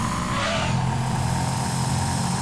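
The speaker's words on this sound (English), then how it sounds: "This thing sounds like a big beefy V8." A video-game car engine in Gran Turismo 2 that sounds like a big V8 drones loudly and steadily, with a brief rising whoosh early on and continuous rumbling without talk.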